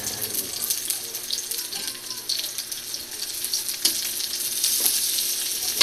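Garlic sizzling and frying in a hot pan, a steady broadband crackle with occasional sharper pops and stirring scrapes, close and fairly loud throughout.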